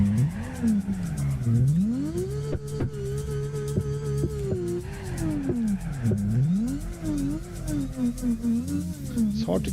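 A drift car in the Torque Drift 2 racing game revs hard and rises and falls in pitch while its tires squeal and skid continuously, with someone talking over the engine.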